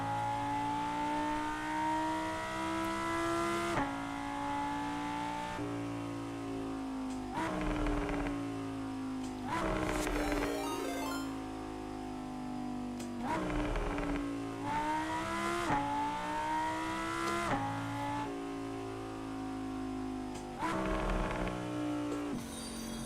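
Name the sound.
car engine revving in a driving video game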